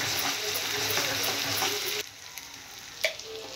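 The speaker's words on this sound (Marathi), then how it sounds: "तेलावर परतून घेऊया।" Masala paste sautés in oil with a dense, bright sizzle that drops abruptly to a quieter bubbling hiss, followed by a soft clink of stirring.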